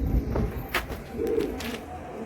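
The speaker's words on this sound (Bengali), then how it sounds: "খুব তেজি পায়রা।" A pigeon coos softly nearby, a few low murmuring calls mixed with faint rustling and brief higher noises from a loft.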